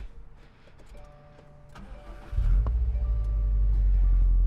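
A Subaru WRX STI engine cranks after a few quiet clicks and beeps, then catches with a loud low rumble and settles into a steady idle nearby.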